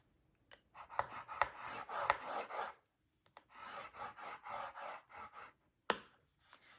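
Cardstock is scored at half an inch on a scoring board, giving quiet rasping scrapes in short bursts with sharp taps between strokes, close and alone.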